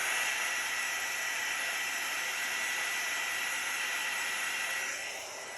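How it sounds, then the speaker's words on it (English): A heat embossing tool blows hot air over paint, a steady close-up hissing whoosh of airflow that holds constant for several seconds before dropping slightly at the end. "I'm just going to use my heat embossing tool one more time just to bring up any more cells."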